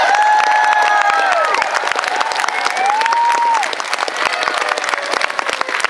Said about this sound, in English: before you applaud some more